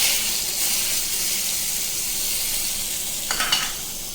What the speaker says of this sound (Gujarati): તો હવે આપણો વઘાર થઈ ગયો છે, તેને આપણે ચટણી પર રેડી દઈશું